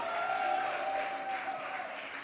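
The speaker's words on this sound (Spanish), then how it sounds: "puede darle mejor aplauso al que merece la gloria" Congregation applause during a church service, a fairly soft, even patter of many hands with a sustained musical tone running underneath.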